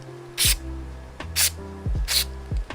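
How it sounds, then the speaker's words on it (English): Contact cleaner sprays onto retro console cartridge pins in three short, sharp hissing bursts, close and loud, separated by brief pauses over a low background hum. "So we're gonna spray a little bit in here on the pins as well,"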